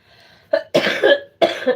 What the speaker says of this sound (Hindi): खांसी बहुत आवत है बहनी